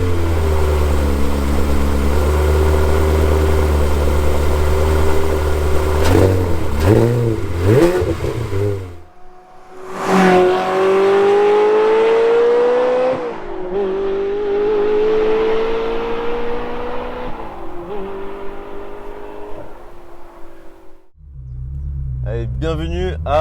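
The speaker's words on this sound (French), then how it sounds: "un silencieux inox de la marque Tubisteel qui, vous allez voir, fait un son à tomber par terre" A Ferrari 360 Spider with manual gearbox and a Tubisteel stainless exhaust muffler roars loudly and close, revving hard through several rising pulls with gear changes and brief lifts, then settling back toward idle.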